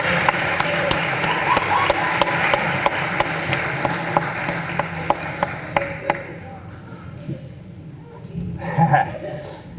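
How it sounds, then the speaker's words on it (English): Audience at a middle and high school fall sports awards ceremony claps, with sharp, scattered claps over loud crowd noise for several seconds before fading, followed by a brief burst of voices and laughter. "Y'all clap. Y'all allowed to clap."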